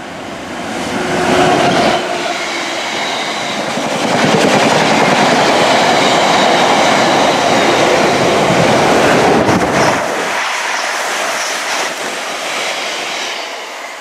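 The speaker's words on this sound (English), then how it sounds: "you can still see the trains coming through Barrow-upon-Soar Railway Station in advance" A train rushes through Barrow-upon-Soar railway station on the Midland Main Line with a loud, sustained roar and rattling wheels, building up and then fading as it passes.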